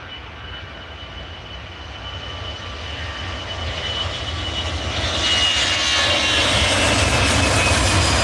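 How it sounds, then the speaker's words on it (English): An easyJet airliner arriving from Amsterdam at Edinburgh Airport, its engine roar swelling steadily louder as it draws nearer, with no talk over it. "Here comes the easyJet Amsterdam."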